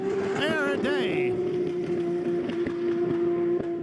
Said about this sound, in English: That's what a lively working engine sounds like, V8 people.